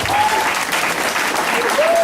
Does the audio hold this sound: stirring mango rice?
no